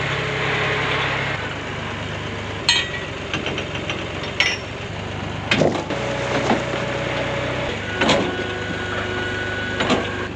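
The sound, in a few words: lumber being unloaded from a trailer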